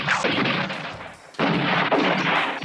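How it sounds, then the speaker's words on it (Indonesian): A film gunfire barrage sounds as dense, rapid volleys of loud shots, broken by a brief lull before the firing resumes, close and continuous. "Kejadian itu pun sempat dilihat Martinez, yang langsung menyerang mereka dengan rentetan senjata"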